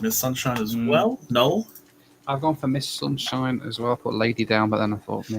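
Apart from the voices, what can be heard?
No distinct noise like a dog, phone or traffic.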